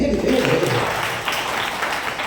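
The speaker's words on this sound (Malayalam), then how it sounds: "ഒന്ന് കൈയടിക്കുക" Audience applause at a Christian Christmas talk, a steady broadband patter of many hands clapping throughout, with a voice briefly heard at the very start.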